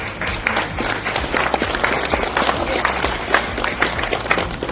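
Lively applause at a Korean American leaders' conference, brisk hand clapping from a crowd that stays steady and close, with some stray thumps and bursts of accents throughout.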